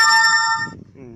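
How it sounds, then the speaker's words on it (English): A phone notification tone rings out as a bright, steady electronic chime that cuts off partway through, followed by a voice speaking close by. "Notifications."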